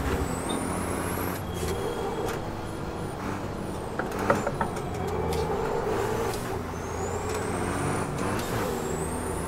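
Heavy racing trucks in the PC game Formula Truck 2013 at the Nürburgring, with a steady loud engine drone and air-brake hiss through the whole stretch, plus occasional short clunks and a brief sharp burst partway through.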